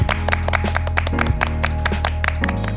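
An audience claps to welcome a Catholic priest's lecture, with brisk, closely spaced hand claps over a sustained tone throughout.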